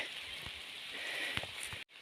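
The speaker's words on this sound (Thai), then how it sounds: "อากาศตอนนี้ฝนตกด้วยเล็กน้อยนะฮะ" Light rain falling on a mountain forest trail near Doi Miang and Doi Thong in Pai, heard as a soft, steady hiss with scattered faint patters and drips, close around the listener and without talking.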